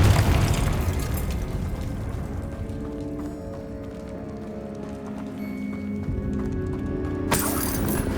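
A Confringo spell explosion in the game Hogwarts Legacy: a deep, heavy boom opens the moment and then fades into a long rumbling tail, with a sharp burst near the end.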